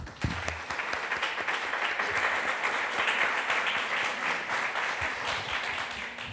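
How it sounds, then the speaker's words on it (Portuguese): A church congregation at a men's worship service breaks into sustained applause, dense steady clapping from many hands filling the room for several seconds. "Quantos assim podem dar uma alegre salva de palmas ao Senhor?"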